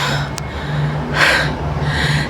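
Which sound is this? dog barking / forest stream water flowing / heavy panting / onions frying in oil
heavy panting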